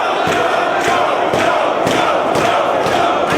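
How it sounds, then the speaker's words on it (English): A wrestling crowd chants for Samoa Joe in loud rhythmic bursts, repeating about every half second throughout. "The crowd wants Samoa Joe."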